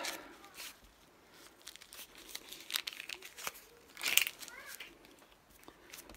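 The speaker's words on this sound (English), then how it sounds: "I'll just peel this off." A thin covering is peeled off by hand, giving crinkly crackling and tearing bursts that are close and fairly quiet, with one sharper rip near the end and a voice speaking in between.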